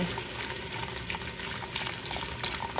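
Vegetable broth pours steadily into an Instant Pot, a continuous close liquid splashing and gurgling at moderate level with no talking.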